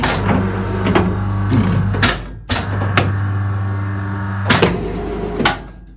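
A bookbinding guillotine trims a book block, giving a loud, close mechanical drone broken by sharp clunks as the blade drops and the clamp releases, with several distinct thuds near the end.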